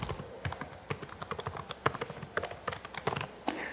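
Rapid, light key clicks from an MSI Modern 14 laptop keyboard, tapped in an uneven typing rhythm, close and fairly quiet with no voices.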